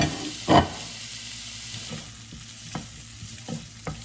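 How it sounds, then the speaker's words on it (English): Shrimp hit a hot pan with a sharp loud burst of sizzling, then settle into a softer steady fry broken by a few scattered stirring clicks and scrapes; no speech. "Dump the shrimp in there"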